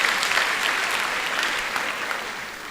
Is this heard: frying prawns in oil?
no